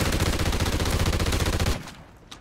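Automatic gunfire in a video game on a remade Ruins and Unearthed Dome map rattles out as one loud, dense, continuous burst for nearly two seconds, then cuts off abruptly.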